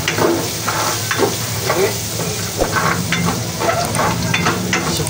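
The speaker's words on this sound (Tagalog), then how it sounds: "Dito na rin po tayo mag-saute ng ating garlic" Garlic sautés in a reduced amount of oil in a pan, a loud continuous sizzle close by with scraping stir strokes throughout, and a voice speaks briefly.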